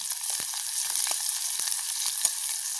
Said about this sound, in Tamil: எண்ணெய் நல்லா கொதிச்சுட்டு பட்டி வச்சுக்கிற வெங்காயத்தை போடுவோம் வெங்காயம் தான் முதல் போடுவோம் நல்லா பொரியும்